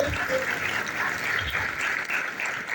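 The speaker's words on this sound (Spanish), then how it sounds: "Fuertes palmas para la compatriota." An audience claps for Mariela Montes at a public gathering, a dense, even round of applause that runs throughout without a break.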